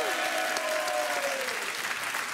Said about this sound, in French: Et on vous applaudit et on salue Cindy et Christian